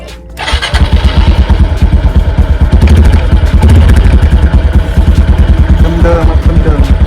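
Close, loud 2023 Honda Wave 125i motorcycle starts up and idles through its stock exhaust with a rapid, throbbing putter, a deep chugging pulse running steadily throughout.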